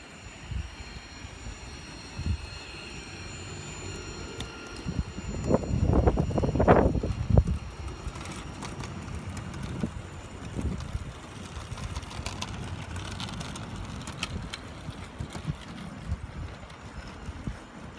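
Gusty wind on a blustery day outdoors beside a Gauge 1 model railway makes a low, rumbling buffet across the microphone, with a stronger surge about a third of the way through. No one speaks.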